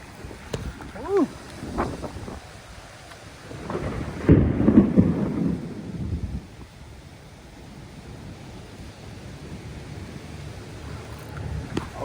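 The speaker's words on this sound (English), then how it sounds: "The wind done picked up. It's a storm." Strong wind and a thunderstorm out on open water during a fishing trip under a tornado watch, with a loud rumble of thunder in the middle over steady gusting wind noise, and voices talking near the start.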